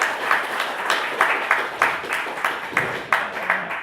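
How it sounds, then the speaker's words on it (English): An audience at a talk on child abuse claps together in sustained, even applause, many hands beating in a steady pulse that fills the room without fading. "if you would just applaud Mike just for the time and effort that he puts into this"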